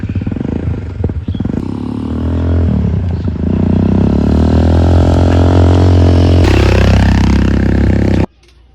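A dirt bike with a failing engine runs loud and close, its rough note climbing as it revs, with some scraping clatter, before it cuts off abruptly near the end.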